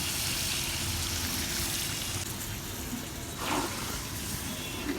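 Water pours into a pot of spiced chicken curry, making a steady rushing, splashing flow that continues alone for several seconds and changes slightly in tone midway.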